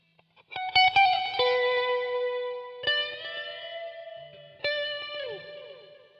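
Electric guitar chords through a HeadRush processor with reverb on ring out with long, washy reverb tails, three struck chords sustaining and decaying into a spacious echoing wash, no voices.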